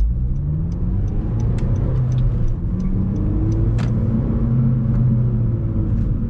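A manual transmission car pulls away from a stop and accelerates, its engine rumbling steadily and rising in pitch through the gears, heard from inside the cabin with faint clicks over the drone.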